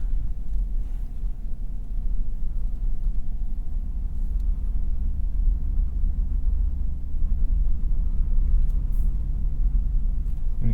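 Wheels spinning on a 2024 Ford F-150 STX with the 2.7 EcoBoost engine, Falken Wildpeak tires and little weight over the rear axle, heard as a loud, steady low engine and drivetrain rumble throughout with no talking.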